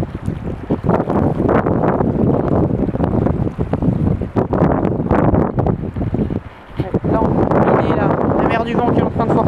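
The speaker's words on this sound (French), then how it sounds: "Du vent qui est en train de forcer" Strong storm wind roars across the microphone at the Saint-Malo coast during a spring high tide in storm Xaver, a loud continuous buffeting rush with gusts, briefly easing near the end, with surf and rising water mixed beneath.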